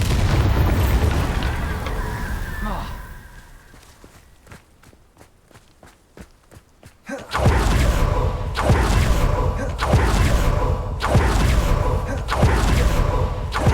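A Bombarda explosion spell in a video game: ambient rumble and footsteps fade to a quiet stretch of faint ticks, then a sudden loud blast erupts, followed by sustained heavy rumbling and repeated thuds.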